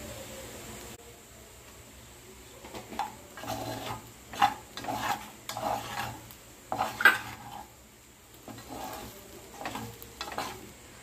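Veg fried rice stirred and tossed in a pan, with repeated scraping strokes of a spatula and a soft sizzle underneath, close and steady for the whole stretch with no talking.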